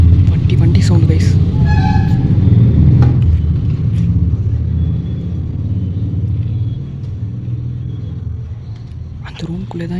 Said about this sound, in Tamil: வண்டி சவுண்ட் கைஸ்.